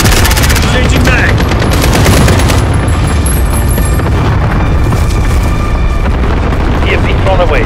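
Explosions and rapid gunfire fill a Call of Duty Modern Warfare Domination match on the St Petrograd map, with heavy booms and dense automatic bursts, loud and continuous throughout, while an in-game voice speaks over the battle.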